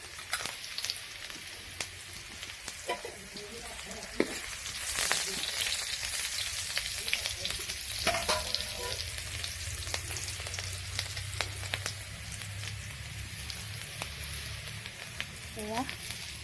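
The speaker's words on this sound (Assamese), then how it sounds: "এখন কেৰাহীতে তেল অলপ দি পিঁয়াজ অলপ ভাজি আছোঁ" Onions frying in a little oil in a wok, a steady soft sizzle running throughout with occasional stirring scrapes and a few faint background noises, no talking.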